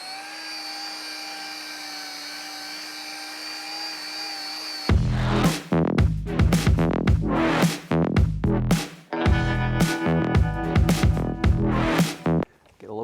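A buffing machine runs on car clearcoat with a single-product polish, first as a steady, even motor whine, then turning louder and rougher with choppy bursts as the pad works the surface.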